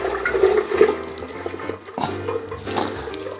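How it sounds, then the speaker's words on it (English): Spiced rum full of cinnamon sticks, cloves, allspice and ginger pieces being poured into a container, a continuous close splashing, gurgling stream of liquid that eases off midway and surges again, with no talking. "So I'm gonna pour all this in this container."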